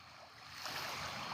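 Ocean waves roll onto the shore in a soft, continuous wash that swells slightly toward the end, faint and distant with no voices.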